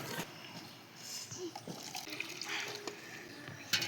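Water is poured and splashes while mix is prepared for a homemade cricket ground, a soft, uneven trickling and spattering with a few faint clicks, heard alone at low level.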